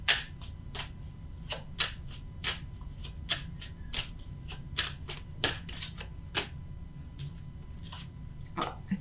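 Tarot cards are shuffled by hand in a quiet room, a rapid series of crisp riffling snaps and flicks in irregular bursts, close and fairly soft.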